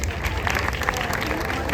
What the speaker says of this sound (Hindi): भाई मुनीब के लिए तालियां हो जाए